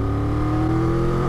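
Cross-plane engine of a 2023 Triumph Tiger 1200 Rally Explorer running with a steady, loud droning note, close by and alone.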